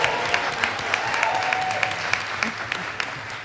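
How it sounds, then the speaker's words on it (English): Applause at a school board meeting honouring the director of facilities, a brisk round of clapping with distinct individual hand claps near the microphone over the general crowd, with faint voices under it. "Give him a round of applause."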